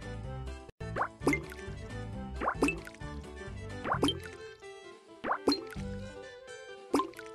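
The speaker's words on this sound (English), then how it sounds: "5 ice cubes should do the trick." Ice cubes drop into a glass of lemonade in a kids' baking game app, five or so bright plops and clinks at a steady pace over cheerful background music.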